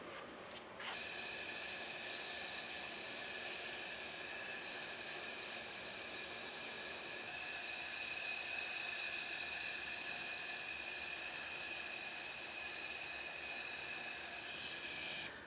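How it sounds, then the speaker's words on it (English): Electrostatic powder coating gun spraying powder onto sandblasted body filler at its highest dual-voltage setting, a steady, close airy hiss that starts abruptly and runs continuously with a slight shift partway through, no talking. "I'm going to be spraying the powder onto it at the highest level dual voltage setting that it's got"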